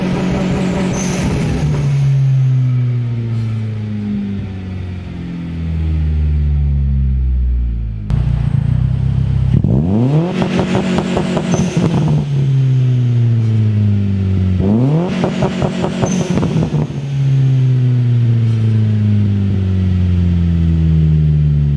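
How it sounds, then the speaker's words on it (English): A tuned JDM Mitsubishi Evo X street build revs hard on launch control. Three loud, close bursts rise and fall in pitch, with idling gaps between them. "Now we're just going to show you the launch control quickly."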